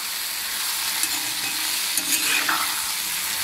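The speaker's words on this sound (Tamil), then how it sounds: "இப்போ இது எல்லாத்தையும் நல்லா இந்த எண்ணெயிலேயே தான் வதக்கிக்கணும்." Tomatoes and spices sauté in oil in a pan for a brinjal curry, giving a steady, loud, close sizzle with a few scraping stirs.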